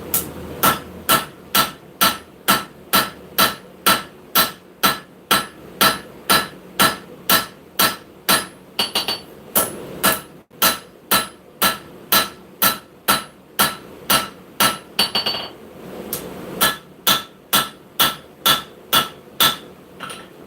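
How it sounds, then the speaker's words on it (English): Rounding hammer forging the bevel of a knife blade, a long, steady run of sharp ringing metal strikes at roughly two per second, loud and close, with a brief pause partway through. "we're going to switch to the round side of the rounding hammer and go in towards our cutting edge"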